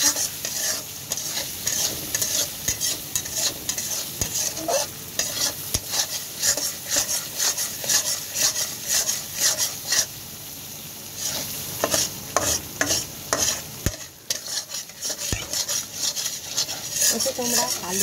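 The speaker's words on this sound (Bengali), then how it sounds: "আর মশলাটা কষানো হচ্ছে" Spice paste for a Bengali tangra fish curry is stirred and sautéed in a pan. The stirring scrapes steadily through continuous sizzling, with occasional clinks of a utensil against the pan.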